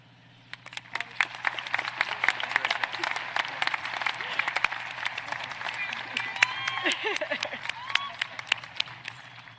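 Applause at a high school graduation ceremony swells from scattered claps into a sustained, dense round of clapping from a large audience, with faint cheers mixed in before tapering off.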